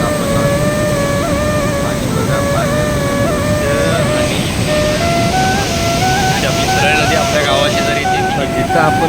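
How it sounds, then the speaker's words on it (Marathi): The main waterfall on the Hiranyakeshi river at Ramtirth roars loudly and steadily, a dense unbroken rush with wavering tonal sounds layered over it. "हा आहे आपला मेन धबधबा समोर बघा धबधबा"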